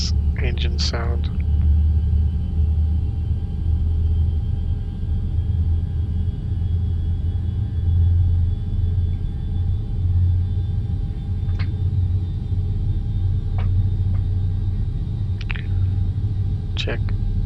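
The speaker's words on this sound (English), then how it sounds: "Nice engine sound." Lockheed L-1011 TriStar jet engines running steadily in a flight simulator game, a constant low rumble and hum throughout with a few faint high clicks over it.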